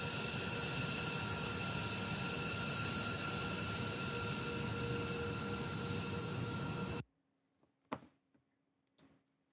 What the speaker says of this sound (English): I always like watching planes and trains.